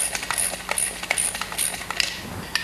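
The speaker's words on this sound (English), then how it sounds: "Using the ratchet wrench," A ratchet wrench tightens a PLP splice closure, producing rapid metallic clicking in quick bursts with brief pauses, close and fairly loud, with no talking.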